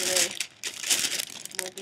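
Green wrapping paper crinkles and crumples in short bursts as a CD is unboxed, close and fairly loud, with a voice talking over part of it.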